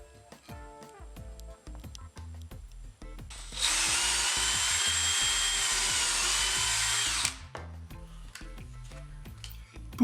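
A power drill driving screws to fit wall-mounted pipe brackets during a bathroom plumbing renovation whirs loudly for about four seconds in the middle, with knocking and clattering handling noises before and after.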